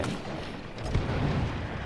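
In a Ghost of Tsushima battle, a grenade launcher fires with deep, booming blasts that roll into a rumbling barrage, loud and close, with no voices over it.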